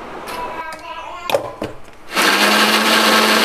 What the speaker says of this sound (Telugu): మిగిలింది కూడా మిక్సీ వేసేసుకోవాలన్నమాట